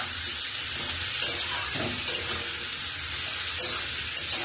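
Onion frying in a pan with cauliflower and potato, a constant close sizzle with occasional stirring scrapes and clicks of a utensil against the pan.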